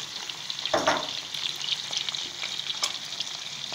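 Eggs fry in a pan with homemade sucuk, giving a continuous crackling sizzle with a brief louder burst near the start and no voices.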